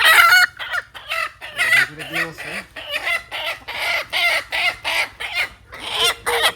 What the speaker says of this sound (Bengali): আর এখানে হচ্ছে আমার সব জুটেলা মুরগি যে প্যারেন্টস